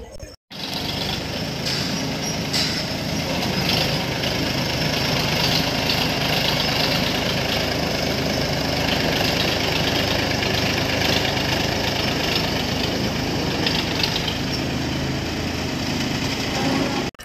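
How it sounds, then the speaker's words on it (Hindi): A toy cartoon tractor's engine idles steadily and loudly at close range, a continuous rumbling drone that holds almost unbroken for the full length with no voices over it. "वाह यह है ट्रैक्टर"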